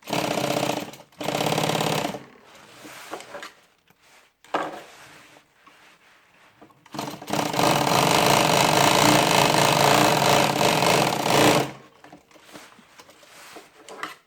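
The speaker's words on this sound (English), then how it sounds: "You guys trying to watch what I'm sewing" A home sewing machine runs in bursts, a rapid mechanical stitching rattle that starts and stops, with a long continuous run near the end and quieter pauses between.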